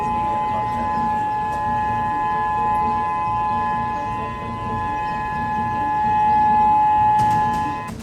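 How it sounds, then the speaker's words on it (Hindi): A civil defense tsunami warning siren sounds in Hawaii, a steady sustained wail with a slowly swelling loudness, heard at a distance over faint background noise. "हवाई में सुनामी के डेंजर को देखते हुए प्रशासन की तरफ से सायरन बजाए जा रहे हैं।"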